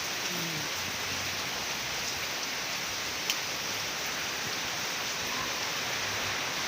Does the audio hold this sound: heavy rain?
yes